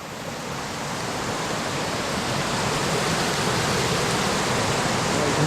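A swollen river rushes over rocks in Snowdonia, a dense continuous roar of churning water heard up close, steady and building slightly louder, with no voices over it.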